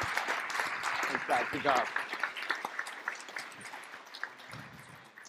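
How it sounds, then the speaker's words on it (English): Audience applause for a panel at a digital marketing conference, moderately loud at first and then thinning and fading out, with someone speaking briefly over the clapping. "Give them a big round of applause."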